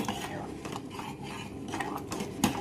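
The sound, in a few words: stirring lentils in a pot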